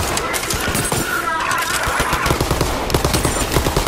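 Rapid energy gun fire from the Borderlands 3 video game, a dense burst of continuous shots running loud through the whole stretch, with a voice talking over it.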